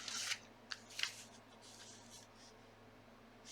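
Scissors snip paper for a gluebook collage spread, a few sharp close cuts in quick bursts near the start and around one second, then quieter rustling, with a faint steady room hum beneath.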